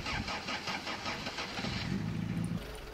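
A Toyota 4Runner engine in SpinTires sputters in uneven pulses, then falters and drops into a rougher low chug as it stalls, close and moderately loud.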